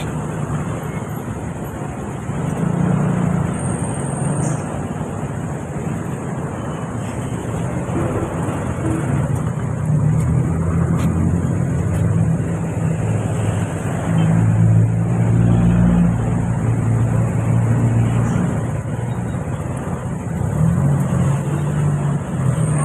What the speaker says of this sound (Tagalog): Traffic talaga dito sa Cainta kapag napadaan kayo dito pag ganitong oras oh.